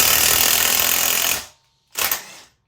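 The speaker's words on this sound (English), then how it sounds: "You can hear the air coming out of the tire, the excess air that didn't get out yet." Air rushing out of a tire during bead breaking with a BeadBuster tool: a loud, close, continuous hiss that cuts off, then a second, shorter burst of hissing.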